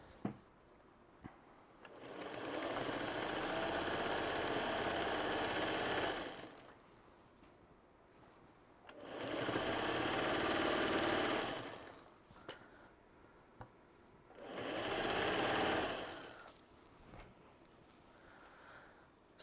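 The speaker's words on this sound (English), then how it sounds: "let's sew the next sashing on." A sewing machine stitches quilt sashing in three sustained bursts of rapid whirring, each several seconds long, separated by quiet pauses, fairly close and moderate in volume.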